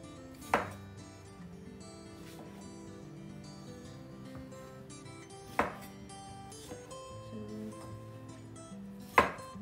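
Three or four sharp knife strikes against a cutting board as strawberries are chopped, spaced a few seconds apart, over a steady background of soft music.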